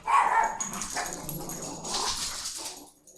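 A small dog barks and whimpers in a short run of yips close by, fairly loud and alone without talk.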